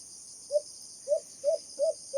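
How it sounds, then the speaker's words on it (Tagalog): Short, clear chirps from a single fighting cricket, five in a row, evenly spaced and fairly close against a quiet background. "Ito pala yung huni ni Kapgo."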